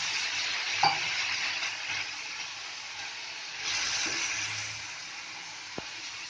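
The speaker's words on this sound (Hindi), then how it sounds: "तो वाटर ऐड कर लेंगे ताकि मसाला अच्छे से पक जाए।" Masala sizzles steadily in a pan as water is poured in for a brinjal bhaji, a dense hiss with a few faint clinks of a spoon against the pan.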